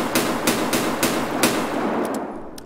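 A short revolver fires repeatedly in Escape From Tarkov, giving sharp, evenly spaced shots about every half second that ring out loudly and close, followed by a few fainter clicks as the firing stops.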